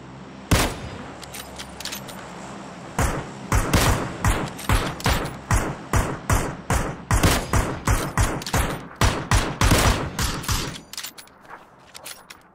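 Gunfire rattles in a PUBG match, starting with one shot and then a long run of rapid, evenly spaced bursts. The shots are loud and close, and they stop abruptly near the end.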